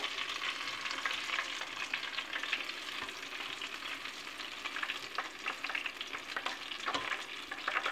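Crispy Kentucky-style chicken deep-frying in oil inside a covered pot gives a steady, dense crackling sizzle with tiny pops, continuous and fairly quiet, with no voices.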